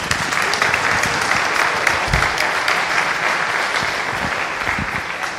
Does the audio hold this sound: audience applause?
yes